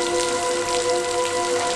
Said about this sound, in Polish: Ulewa?